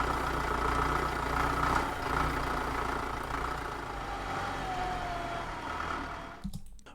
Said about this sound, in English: We've got the tractor as it comes in